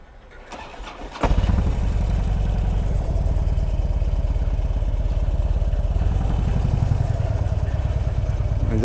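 A Harley-Davidson Dyna motorcycle starts up and then settles into a steady, loud, close idle with a deep, even throbbing pulse.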